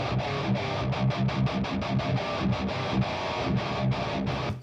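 Electric guitar through a Wagner amp with EL34 tubes: dense, distorted, crunchy chords chugged in a fast rhythm with short palm-muted stabs, loud and alone.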